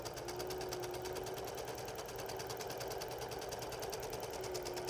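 A sewing machine stitches a quilt border seam with a backstitch, a steady rapid mechanical chatter with a constant whirring hum that runs evenly throughout at close range.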